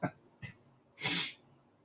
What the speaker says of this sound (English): You just sneezed.